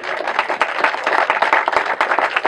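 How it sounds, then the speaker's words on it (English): Audience applause at a community business event honoring a seasonings company, a dense sustained burst of many hands clapping at close range, steady and loud throughout with no voices on top. "That deserves a round of applause."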